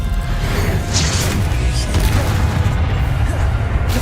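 A Bombarda spell explosion in the video game Hogwarts Legacy, a loud, sustained booming rumble with whooshing bursts layered on top, filling the whole moment at close range.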